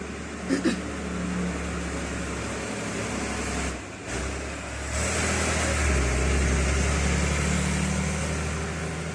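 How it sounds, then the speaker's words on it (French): Cars pass close by on a nearby road, a steady loud rush of traffic noise that swells and fades for the whole stretch, with no talking. "Il y a les voitures qui passent à côté, là, ça fait trop de bruit."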